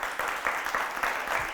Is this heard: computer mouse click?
no